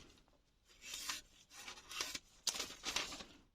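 A Kai Shun kitchen knife being honed on the 3000-grit side of a Solicut combination whetstone, producing several rhythmic rasping strokes that swell and fade, close and fairly quiet.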